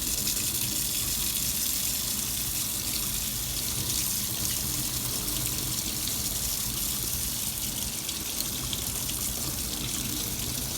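Tap water, running cold, pours steadily into a sink to rinse an oil paint brush, a continuous broadband rush with no pauses.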